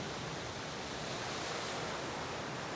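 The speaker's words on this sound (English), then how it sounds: "There's the top of the waterfall." A waterfall rushes in the Freyberg Basin at high elevation on the Four Pass Loop in the mountains, heard as a steady, dense roar of falling water that stays even throughout, with no voices.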